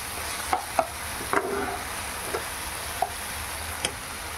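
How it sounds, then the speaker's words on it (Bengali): Spice masala for dhokar dalna frying in a pan, a steady low sizzle with several sharp spatula scrapes and taps spaced irregularly across it; no one speaks. "মশলাটা আরও ভালো করে ভেজে নেব"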